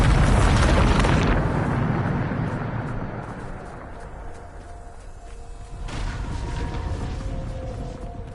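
The Bombarda spell explosion in Hogwarts Legacy: a heavy, rumbling blast opens loud and slowly fades, then a second swell of booming noise rises a few seconds later.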